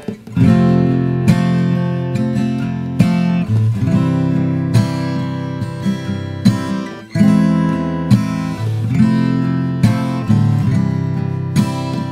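Guitar strumming full chords of a song's bridge at a steady, moderate pace, each chord ringing out before the next; brief pauses break the sequence, close and clear.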